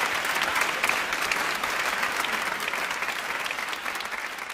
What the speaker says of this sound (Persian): تشویق.